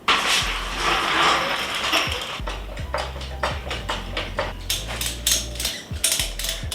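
A Honda CRF300L motorcycle being raised on a lift gives a series of mechanical clicks and ratcheting taps with low clunks from the lift's moving parts, close by and with no one speaking.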